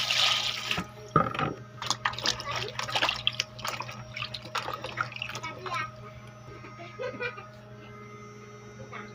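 Santol fruit being washed in water, with faint splashing and dripping over a steady electrical hum, broken by a few louder clattering handling noises early on.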